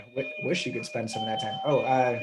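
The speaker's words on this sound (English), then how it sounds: "That's a doorbell at the clinic," A clinic doorbell sounds as a steady high electronic tone running under a man's continuous speech across the whole moment.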